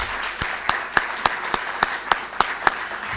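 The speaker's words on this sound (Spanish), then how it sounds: "Un aplauso para el profesor José Luis Díez." A crowd applauding at a judicial conference, scattered claps rising to sharp, evenly spaced loud claps roughly every third of a second, with no talking.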